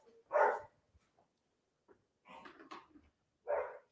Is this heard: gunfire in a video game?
no